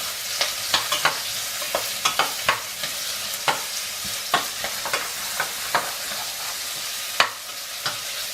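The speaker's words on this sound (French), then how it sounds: "nous mettons nos oignons à revenir" Onions fry in hot oil in a pan with a steady soft sizzle, while sharper scraping stirs come at an irregular pace, heard close up with no talking.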